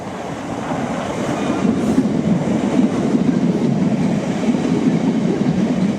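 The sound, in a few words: Class 73 train passing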